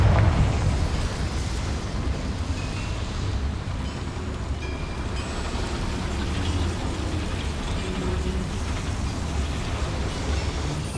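A Confringo fire spell blasts in Hogwarts Legacy, a loud, rumbling explosion with sustained crackling and debris noise that stays dense and continuous throughout, with no speech.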